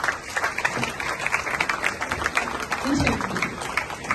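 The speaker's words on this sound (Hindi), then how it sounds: "जोरदार तालियां" Loud, continuous applause from a crowd of women at a Women's Day gathering, dense clapping throughout with a voice briefly audible over it.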